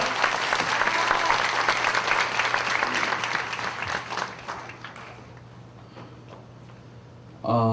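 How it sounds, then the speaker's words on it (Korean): Warm applause from a crowd at a church youth Holy Spirit festival welcomes a pastor to the stage. The dense clapping fades out over several seconds, leaving near quiet before a voice begins at the very end. "뜨거운 박수로 목사님 환영하겠습니다"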